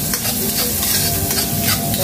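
Garlic sizzles and spits in hot cooking oil as the first step of a Filipino menudo, a loud, close, continuous frying hiss with stirring scrapes and no voices.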